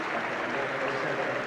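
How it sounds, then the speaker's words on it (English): Football crowd at a Kilmarnock versus Rangers match applauding both sets of supporters as a player is substituted off, a steady, distant wash of clapping filling the stadium with faint commentary over it. "Sympathetic applause by both sets of supporters."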